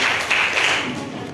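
A classroom group applauds students who have just presented, producing a dense, steady wash of many hands clapping together that fades slightly toward the end, with no clear talk.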